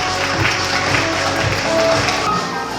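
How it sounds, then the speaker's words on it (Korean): Steady, dense applause from an audience at a football award ceremony, sustained and even for a few seconds, with faint voices underneath. "큰 박수 부탁드리겠습니다"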